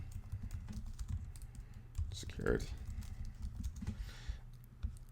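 Quiet typing on a computer keyboard, a scattered run of light clicks with uneven spacing, under a low background hum, with a brief vocal sound in the middle.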